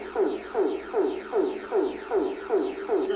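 Barbados emergency alert system tone pulses in a rhythmic, club-music-like pattern of repeating swooping electronic notes, about six evenly spaced beats at moderate volume with no voices.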